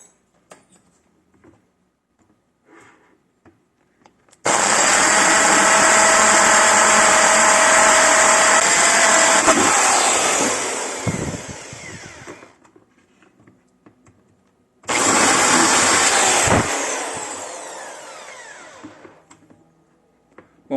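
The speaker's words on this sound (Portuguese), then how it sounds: "quando eu utilizar a furadeira, ela não vai escorregar para o lado" Electric drill boring a hole through a plastic bucket for a DIY bicycle pannier, with a loud, close, steady whine lasting about eight seconds that bogs at the end, then a second shorter burst after a pause.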